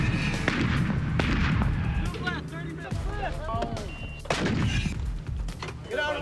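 Artillery guns fire during a gunnery training exercise, several heavy booms spaced a second or two apart over rumbling engine noise, with a narrator talking over them.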